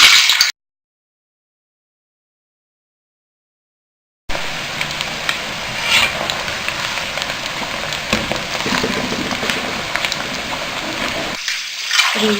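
French fries frying in hot oil, a steady loud crackling sizzle that starts abruptly after a short silence and continues evenly, close by.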